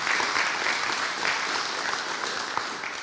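Audience clapping at a community meeting about Spokane area fires, a brief burst of steady applause from a crowd filling the room.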